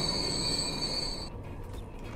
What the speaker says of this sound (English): First electric train arrived.